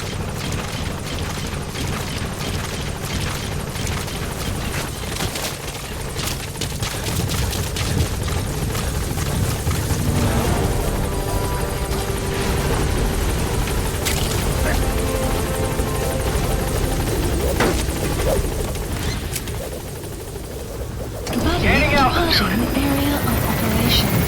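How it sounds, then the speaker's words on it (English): Support helicopter arriving at a landing zone in the video game Metal Gear Solid V, a loud steady rotor thrum with radio voice chatter over it, shifting near the end as the craft settles. "Have arrived at LZ. Will stand by. Support helicopter has arrived."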